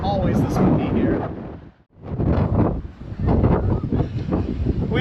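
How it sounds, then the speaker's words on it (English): Strong wind buffeting a microphone in Barcelona in loud, rumbling gusts that dip briefly into a lull before roaring back. "it's actually really windy here"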